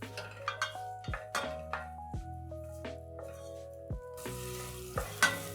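Chopped onions going into a pan for githeri and being stirred, with soft spaced scrapes and clinks over a quiet sizzle; faint and close, with a ringing tone that cuts off with each stroke.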